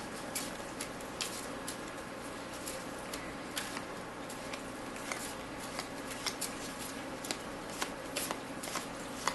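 Close riffle shuffling of a deck of trading cards, a steady series of crisp papery bursts and clicks repeating every second or so, heard alone at moderate volume.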